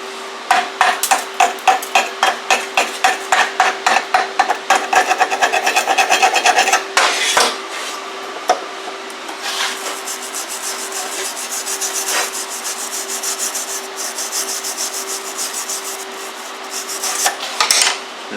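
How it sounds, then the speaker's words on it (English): Slag being chipped and scraped off a TIG-welded steel butt joint, a fast run of sharp metallic taps and rasping strokes for several seconds, then scattered scrapes and knocks, close and fairly loud with no talking. "See if I can get some of the slag off."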